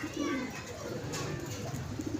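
Pigeons cooing at a pigeon club, low soft throaty coos close by that repeat over a steady murmur of background noise.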